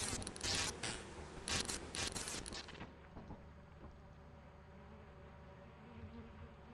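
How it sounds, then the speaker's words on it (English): Angry bees buzz loudly in the video game Lethal Company, a dense close swarming drone in stuttering bursts for about three seconds before dropping to a faint lingering hum. "He pissed the bees off"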